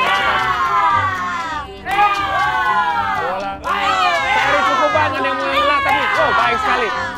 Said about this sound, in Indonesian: hanya teriakan teman-teman yang mengganggu konsentrasi Ferry